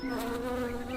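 A bee buzzes in a close, steady, continuous drone lasting about a second, used as a sound effect in a children's story.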